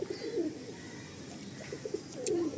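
A Madrasi pigeon coos in a few short, soft, low throaty phrases spaced across a quiet background.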